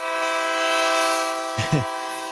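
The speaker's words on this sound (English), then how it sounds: "You hear the train horn, means we're on the phone" A loud, sustained train horn blares steadily with rich layered tones, a brief burst of voices breaking in near the end.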